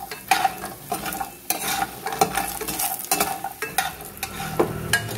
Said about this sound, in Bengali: বড়িগুলোকে আমি ভালো করে লাল লাল করে ভেজে নেব।